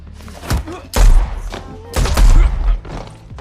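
Gunshots in an action film scene: several loud, close bangs and heavy thuds in quick succession, layered with other movie sound.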